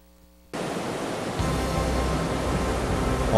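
Buttermilk Falls sends water crashing down in a loud, steady, broadband roar that starts abruptly after a moment of near-quiet and grows slightly heavier as it continues.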